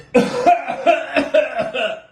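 A burst of harsh, rapid coughing, five or six hacks in quick succession, loud and close with no talking.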